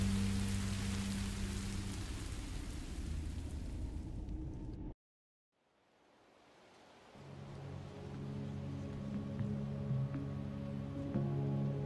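Steady rain hisses and patters across surfaces in Minecraft Story Mode, cutting to silence midway before the downpour gradually swells back, lighter and more distant, with a low rumble underneath.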